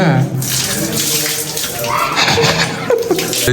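A tap runs at full flow into a basin, giving a loud, close, steady splashing gush across the whole moment, with people talking over it.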